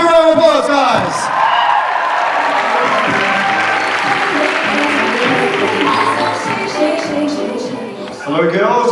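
At the Perth Supanova 2015 cosplay contest, an audience gives steady, dense applause with scattered whoops and cheers, while an announcer's voice is heard at the opening and again as the clapping fades.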